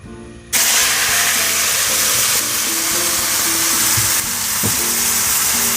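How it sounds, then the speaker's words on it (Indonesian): Ground spice paste for meat-filled arem-arem hits a hot pan and erupts into a loud, dense hiss that holds steady for several seconds, close by, with faint stirring clicks underneath. "Saya tumis terlebih dulu bumbu yang sudah dihaluskan."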